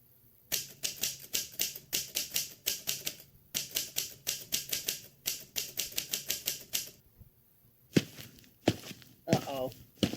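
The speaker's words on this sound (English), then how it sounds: "I heard you typing," Typing on a laptop keyboard comes in fast rapid bursts of key clicks with short pauses between them, fairly close, followed by a few louder thumps and a brief voice near the end.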